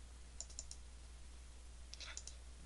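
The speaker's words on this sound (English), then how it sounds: "when you double click the button" A computer mouse clicked on a desktop while building a button in Macromedia Flash 8, with a pair of quick, faint double clicks near the start and another cluster near the end over a quiet electrical hum.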